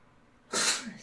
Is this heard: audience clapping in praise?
no